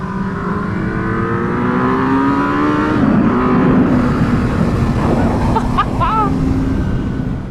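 A Suzuki Hayabusa revs hard toward about 8,000 RPM in third gear, the engine note rising steadily and loudly, then easing off as wind noise rushes past, with a voice briefly heard over it.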